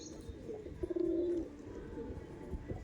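Madrasi Golden Eyes pigeons give a short low coo close by, set against a soft murmur of background noise and faint shuffling.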